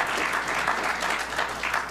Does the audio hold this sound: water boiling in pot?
no